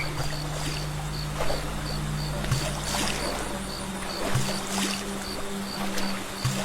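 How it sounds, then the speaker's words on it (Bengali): A wooden boat is rowed with an oar on a river at night: a steady wash of water against the hull, slow repeated oar strokes, and faint creaking, with a thin rhythmic insect-like chirp above. "কানামাঝি নৌকায় দাঁড় বাইছে"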